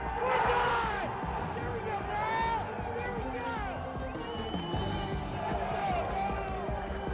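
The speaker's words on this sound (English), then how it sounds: "listen to this fanfare as this birdie drop at the 8th for Niall Shields" Golf spectators at the 8th hole at the U.S. Amateur at The Olympic Club cheer a birdie putt, loud applause and shouts swelling at once and then holding steady under a commentator's voice.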